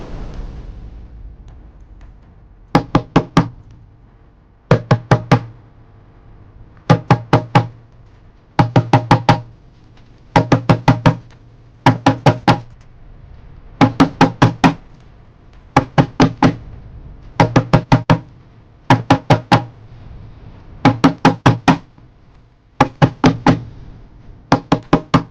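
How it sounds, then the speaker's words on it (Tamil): Repeated knocking on a room door, loud and close, coming in quick bursts of several raps separated by short pauses, continuing for the whole stretch with no voices. "யாரும் என் ரூம் கதவை தட்டுற மாதிரி ஒரு சத்தம் கேட்டுச்சு"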